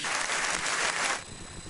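Brief burst of applause from an audience for a blunt-spoken speaker, loud and dense for about a second before fading abruptly.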